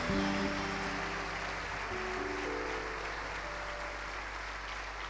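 Congregation applause at a ministerial congress for renewal and revival, a dense, steady wash of clapping from a large crowd, with sustained tonal music or organ notes underneath and no talking.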